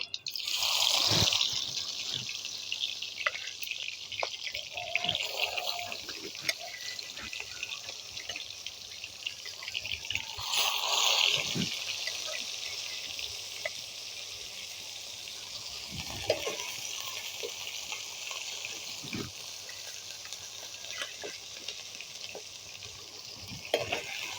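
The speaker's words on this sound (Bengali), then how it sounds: "তেল গরম হয়ে গেছে মাছ দিয়ে দিব" Fish frying in hot mustard oil in a village kitchen gives a steady bright sizzle throughout, with bursts of louder spattering and occasional knocks from a utensil against the pan.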